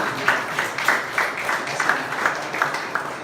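Church congregation clapping together during a Sunday worship service, a steady rhythmic patter of many hands at moderate loudness filling the room, with no talk over it.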